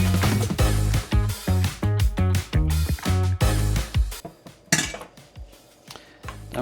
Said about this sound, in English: Then we mix this around till it's getting smooth and nice